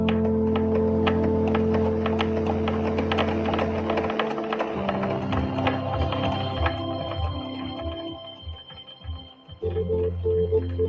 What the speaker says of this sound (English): That was the sound of many telegraph machines in operation, tapping out messages in Morse code.